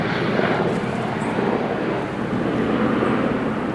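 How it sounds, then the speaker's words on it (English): A couple of helicopters pass overhead above a forest at night, their steady, broad engine roar filling the air continuously and fairly loudly, with no talking. "we've got a couple of helicopters going over."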